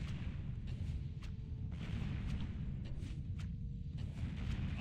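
Cannon towers fire in a Warcraft strategy game as repeated booming shots with sharp transients ring out over a dense, rumbling battle din, several blasts spaced irregularly through the stretch.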